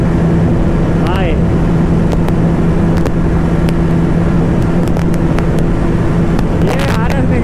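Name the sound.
KTM RS 200 and RC 200 motorcycles drag racing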